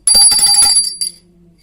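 A small metal hand bell, bought for a Laddu Gopal shrine in Vrindavan, rings rapidly for under a second with a bright, high tone, then a brief second jingle fades out.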